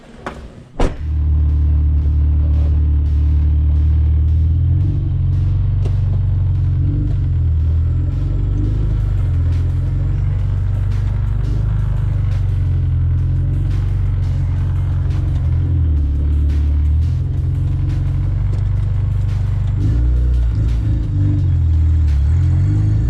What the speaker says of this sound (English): I want to test drive the car.